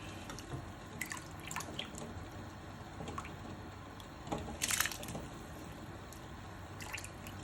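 Rice poured into a pot of boiling water while cooking egg biryani, with a soft steady bubbling and small drips throughout and a brief brighter splash near the middle.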